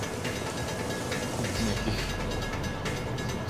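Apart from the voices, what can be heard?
train at a station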